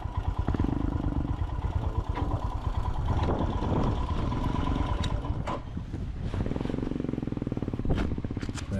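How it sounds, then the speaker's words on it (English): A motorcycle engine rumbles loudly nearby in Norfolk, its loud exhaust throbbing and rising and falling as it idles and revs. "There's that loud exhaust again."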